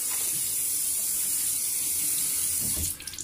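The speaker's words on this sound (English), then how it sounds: "Gonna run that under cold water." Cold tap water runs steadily from a faucet over a neoprene beard blanket in a bathroom sink, a continuous close hiss that cuts off near the end.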